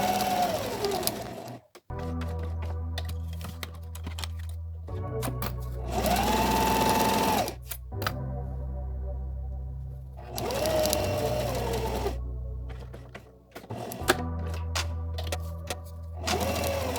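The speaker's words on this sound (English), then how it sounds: "take it to your sewing machine and sew around the perimeter to secure the foam to the lining" A sewing machine stitches foam to a vinyl zipper pouch lining in several loud, whirring runs of rapid needle strokes separated by brief pauses, heard up close without speech.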